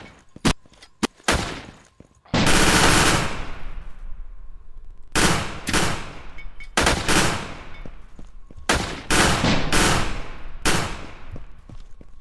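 First-person shooter gunfire, loud and close: sharp single shots give way to long sustained bursts of automatic fire broken by brief pauses, with no talking over it.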